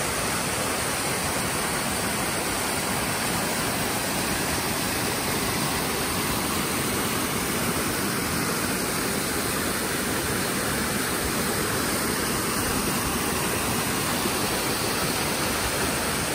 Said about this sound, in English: Check it out, I made it to the waterfall.